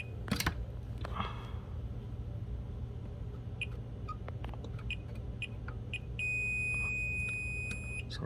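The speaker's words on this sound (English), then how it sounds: "got my meter, got my alligator clip in. Just testing for continuity." Multimeter continuity beep with an alligator clip attached, testing that an electrical box is grounded; a steady electronic tone sounds near the end, after a few soft clicks and handling noises.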